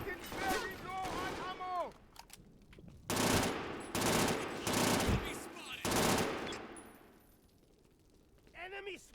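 Burst-fire gunfire in the shooter Brink comes as loud clustered volleys, roughly three heavy bursts in a row, with voices talking over and between them.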